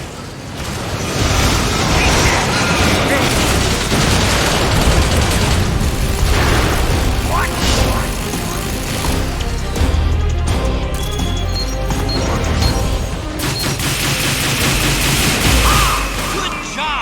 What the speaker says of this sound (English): Snake, shoot down the approaching missiles with a machine cannon.